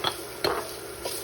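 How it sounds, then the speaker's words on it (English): Garlic sautés in a pan for turmeric rice with a steady broad sizzle, while a utensil scrapes and stirs in three distinct passes, the loudest near the middle. "And our garlic. And we're just gonna saute these"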